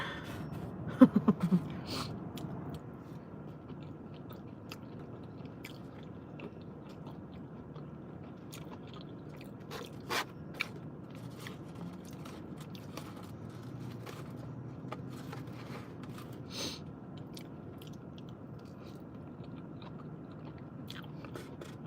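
Someone eats french fries close to the mic, with soft steady chewing broken by a few sharper bites and crunches in a quiet room.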